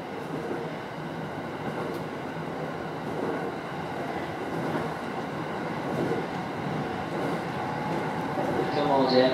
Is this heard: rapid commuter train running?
yes